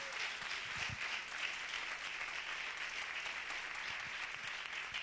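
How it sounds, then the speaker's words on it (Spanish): Congregation applause during a church sermon, a continuous, fairly faint and distant patter of many hands clapping, with a few low thumps scattered underneath. "Dale un aplauso fuerte al Señor."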